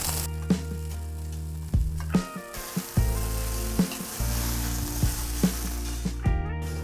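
Indori poha is stirred and fried in a pan, a spatula knocking and scraping against the metal in an irregular rhythm over a soft, steady sizzle; close and fairly loud, without speech.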